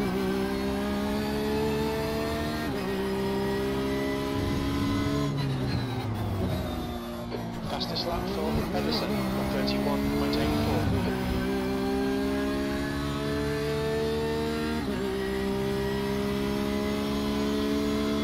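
A race car engine in the iRacing sim at Sao Paulo revs high and loud, dropping sharply at each of several gear changes, with a brief lull and scrape midway as the car rides rough ground.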